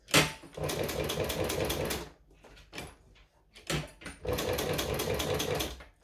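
A sewing machine stitches a fabric strap on its largest, roughly 6 mm stitch setting, running in close, loud, rapid bursts with short pauses and a brief restart between runs.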